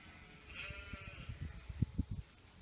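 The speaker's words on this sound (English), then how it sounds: "It's just so quiet other than the sound of sheep." A sheep bleats a few times at a distance in a quiet outdoor setting, with soft low thumps and rustles nearby.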